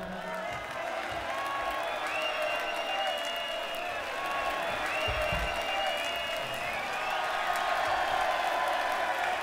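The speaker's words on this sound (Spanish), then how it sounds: "Un aplauso para él" Crowd applause at a live rock concert in 2002, a sustained wash of clapping and occasional cheers from a large audience, heard at a distance and fairly faint throughout.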